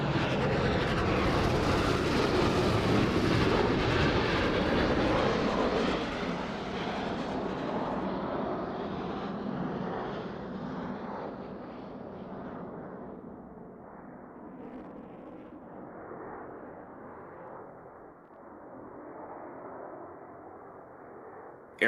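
A Roblox jet formation sweeps past during a Diamond aileron roll, its engine roar loud at first, then fading into a duller, more distant rumble over the remaining seconds.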